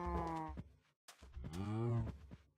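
A Minecraft cow gives two drawn-out moos, the second lower and longer, separated by a brief silence, fairly close and clear with no talking over them.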